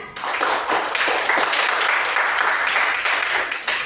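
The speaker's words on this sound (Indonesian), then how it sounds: "Ayo kasih semangat dan tepuk tangan" Sixth-grade students in a maths classroom clap together for classmates, a brisk burst of close, fairly loud hand claps lasting a few seconds.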